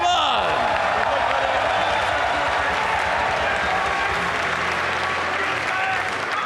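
A live event crowd at an esports-style all-stars season finale breaks into sustained loud applause and cheering, with whoops rising over dense continuous clapping, while a host's voice carries faintly underneath.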